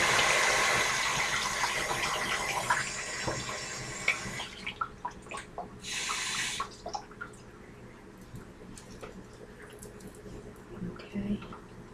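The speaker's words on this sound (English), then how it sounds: "while I rinse off my hands" Hands are rinsed under a running kitchen tap while frying chicken. Water hisses steadily for a few seconds, then breaks into scattered drips and splashes before a short final burst of flow.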